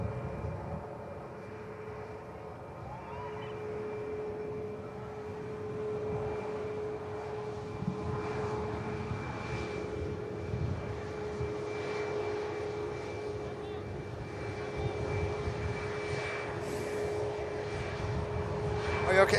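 Aer Lingus airliner climbing after takeoff from Manchester Airport, a moderate, distant jet drone with a steady tonal hum that builds gently over twenty seconds, with talk mixed in.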